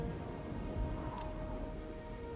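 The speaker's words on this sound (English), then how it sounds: "It started raining the hour that I hit cancel." Steady rain falls in the Morrowind video game, a continuous even hiss of drops with a faint low rumble beneath, moderately quiet and without voices.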